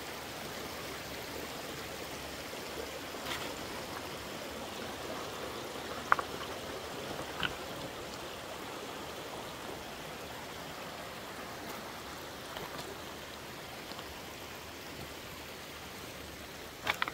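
River water flows in a steady, broad rush all around, a continuous close wash of noise with a few faint clicks and splashes mixed in.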